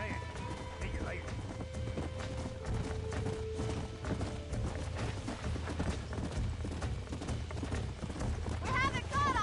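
Horse hooves clip-clop steadily at a brisk gait in the Red Dead Redemption video game, close and continuous under music and game sounds, with a whinny and a brief crash mixed in.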